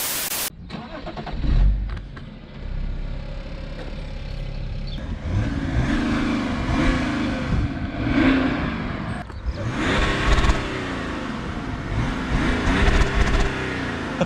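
A BMW 335d diesel fitted with downpipes revs hard, its engine climbing and falling through several loud blips and bursts over a steady close-up drone with no talk.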